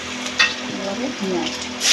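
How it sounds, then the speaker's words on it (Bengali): Whole spices, cumin and black cumin, temper in hot oil for a potato and katla fish curry, producing a steady close sizzle with a brief scrape of a spoon. "তেলের মধ্যে একে একে দিয়ে দেওয়া হচ্ছে ফোড়ন"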